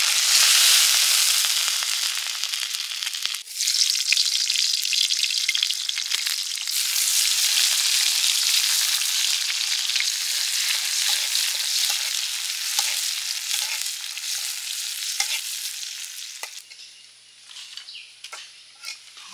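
Small silver fish frying in oil give a bright, dense crackling sizzle with scattered pops, loud at first and gradually thinning toward the end.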